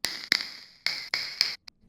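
Raw vinyl crackle sample, dry and unprocessed, heard as a handful of sharp, bright ticks and short hissy bursts separated by gaps, fairly quiet and close.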